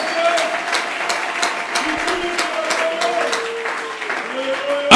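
Church congregation at a French-language service clapping and applauding steadily throughout, a dense sustained ovation with a voice calling out over it.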